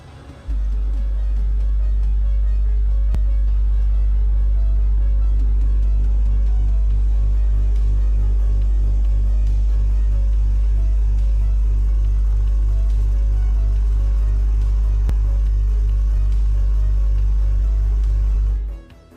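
A deep, steady low-frequency subwoofer test tone from a single 12-inch driver in a ported enclosure, powered by 150 watts in a big car. It holds loud and unbroken for about eighteen seconds before cutting off.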